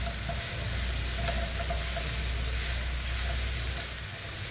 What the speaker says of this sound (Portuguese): E agora a gente vai deixar, então, refogando.